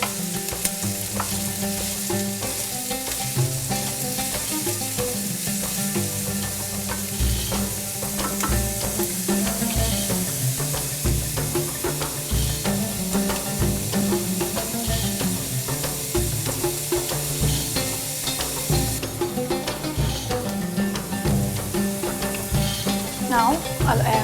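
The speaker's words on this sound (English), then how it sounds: "Have 1 large onion chopped. Saute" One large chopped onion sautéing in a pan, a steady close sizzle and crackle of frying that runs unbroken, with occasional stirring scrapes and a faint voice underneath.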